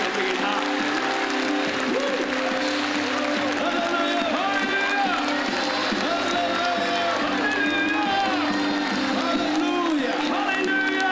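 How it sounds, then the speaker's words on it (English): A church congregation at a prophetic teaching service claps hands together in a sustained burst of steady applause, with cheers and voices mixed into the clapping. "If you believe, clap your hands."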